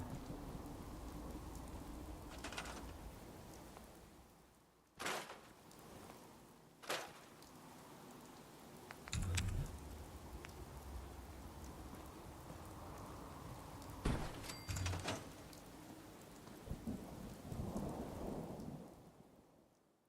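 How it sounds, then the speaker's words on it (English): Steady rainfall in the video game Fallout 4, with loud thunder cracks booming at several points over a continuous wash of rain and low rumbling. "Looks like I'm sleeping in the rain."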